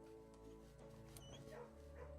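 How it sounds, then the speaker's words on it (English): A dog in a kennel in the video game Blue Prince gives short, quiet whimpers and yips, close and brief, against a sustained musical background. "You have to pet the dogs."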